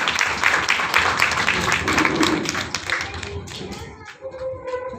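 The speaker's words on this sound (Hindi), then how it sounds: "मैं एक बार यहाँ की मैनेजमेंट का तालियों से स्वागत करवाना चाह रहा हूँ।" An audience at a student motivational talk breaks into dense, steady applause that thins out into scattered claps after a few seconds, with some voices underneath.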